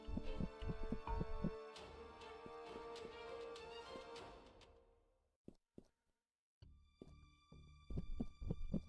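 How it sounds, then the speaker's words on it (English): Heartbeat sound effect in a video game, low rhythmic thumps pulsing under a dense musical drone that fades out, then the thumps return more sparsely before building again near the end. "There's like a heartbeat noise."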